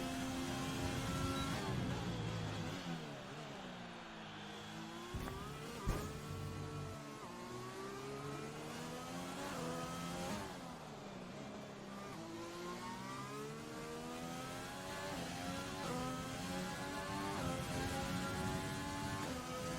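An F1 race car from a racing video game runs a lap at the Vietnam circuit, its high engine whine sweeping up and down continuously through gear changes, loud and steady for the whole stretch.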